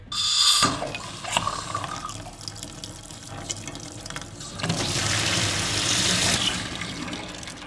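Water running through a farm drain pipe setup, pouring and splashing steadily with a gurgling rush that swells louder in the last few seconds.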